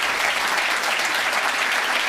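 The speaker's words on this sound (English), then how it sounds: "He's clapping." Sustained, dense applause fills a room during a recorded Mark Carney speech, a steady wash of many hands clapping with no break and no talk over it.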